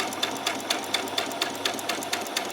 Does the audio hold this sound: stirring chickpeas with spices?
no